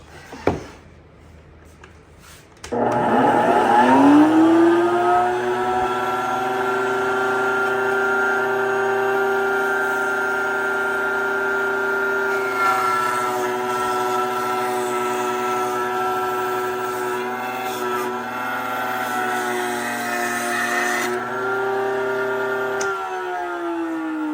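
A manual router cutting wood spins up to a loud, steady motor whine that holds close and continuous for about twenty seconds before cutting off, with no talking.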